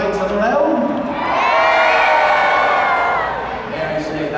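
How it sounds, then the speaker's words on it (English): Audience at a Medieval Times knight tournament roaring and cheering loudly as one, a dense swell of shouts and whoops that builds and then fades. "are you prepared to cheer loudly for your knights of the realm?"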